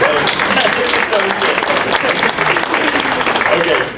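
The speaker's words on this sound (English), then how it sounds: "can we give a round of applause for the sponsors?" A crowd at a high school event claps and cheers steadily throughout, loud and dense, the applause sustained without breaks.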